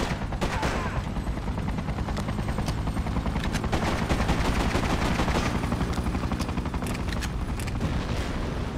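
Dense, continuous automatic gunfire rattles from the Freedom Fighters video game, loud and relentless, with rapid overlapping bursts and a rumbling battlefield background.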